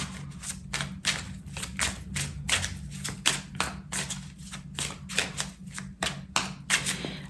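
Tarot cards being shuffled by hand in a steady run of quick, crisp riffles and taps, about two per second, close and fairly loud, with a low constant hum underneath and no talking.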